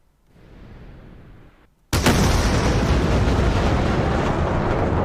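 Missiles launch in the DCS combat flight simulator during a mock air battle between JAS 39 Gripens and F-35A Lightning IIs: a sudden loud roaring burst that keeps going steadily after a softer rushing lead-in.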